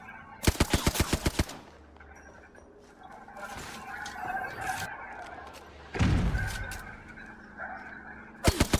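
Rapid automatic gunfire from a video game cracks out in two short, sharp bursts of evenly spaced shots, one at the start and another at the end, with quieter game sounds and a thump in between.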